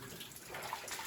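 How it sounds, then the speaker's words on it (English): Water dripping and trickling down through a timbered drift in a flooded mine, a steady wet patter with scattered brighter drops, fairly close and soft, no talk. "a timbered section with water, a lot of water dripping down"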